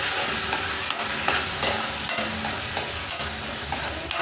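Ground masala roasts in a hot pan for drumstick pod bhaji, stirred in regular scraping strokes under a continuous sizzle, close and fairly loud.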